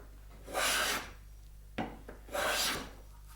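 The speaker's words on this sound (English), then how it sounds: "I'm only planing through to about here for the moment till we get close to the line" A hand plane shaves a stick of firewood in two long rasping strokes with a brief knock between them, close and clear with no talking.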